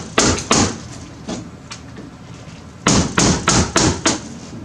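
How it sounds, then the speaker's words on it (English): Sharp chisel knocks strike a bump on an old window rail during replacement-window prep, a few separated blows, then a quick run of five raps near the end, loud and close with no talk. "so I'm just going to take a chisel, knock that out of there."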